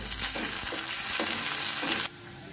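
Chopped green chillies and curry leaves hitting hot oil for Nashik-style vada, a loud dense crackling sizzle close up that drops suddenly to a quieter steady fry near the end, no talk.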